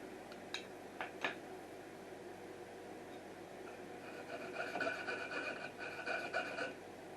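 A fine hand saw cuts a small acoustic guitar inlay piece while the workpiece is moved against the blade, giving soft, close rasping strokes in short bursts, quiet throughout with no talking.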